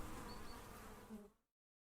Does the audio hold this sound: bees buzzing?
yes